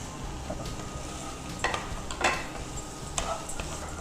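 Paneer sizzles in a pan for paneer chilli, with a steady fry hiss broken by a few sharp clinks and scrapes of a spoon stirring against the metal.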